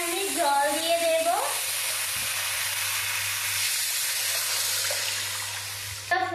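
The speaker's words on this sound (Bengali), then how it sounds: "এখন আমি জল দিয়ে দেব।" Water poured into a hot pan of frying spices, including ground cumin, for a fish curry, setting off a loud, steady, broad sizzle and hiss that lasts the whole time, with a brief voice near the start.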